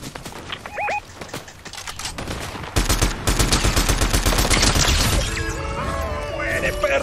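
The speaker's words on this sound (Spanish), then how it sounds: "¡Ah! ¡Disparos!" Video game gunfire in Fortnite, with single sharp shots early on, then dense rapid bursts like machine gun fire that keep going loud and close, while voices talk over the action.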